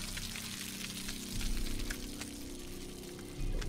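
Water pours steadily in the Saw video game, a continuous splashing wash with a slight surge partway through and no talking over it.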